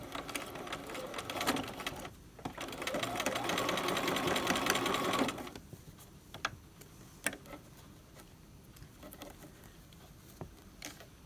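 A sewing machine stitches an invisible zipper with a fast, steady mechanical patter for a few seconds, then stops, leaving faint ticks and small handling sounds.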